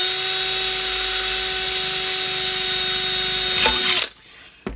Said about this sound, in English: drill one hole here on the side like this